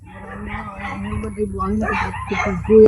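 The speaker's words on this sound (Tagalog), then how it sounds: "Yan, maraming aso" Several dogs bark and yip in the background, some whimpering, while a voice talks over them.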